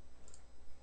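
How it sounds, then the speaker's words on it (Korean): Two quick, sharp clicks of a computer mouse double-clicking a corporate seal file during electronic patent filing, close and faint against a steady low hum. "법인 인감 더블 클릭 확인"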